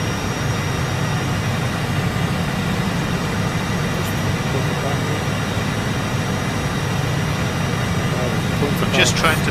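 A steady, loud Harrier jet engine roar in Microsoft Flight Simulator 2024 drones continuously with a low rumble, holding fairly even throughout.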